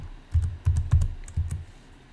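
Keys on a computer keyboard are tapped in a short burst of about eight close, crisp clicks, some in quick pairs, with no voices during an AutoCAD drafting session.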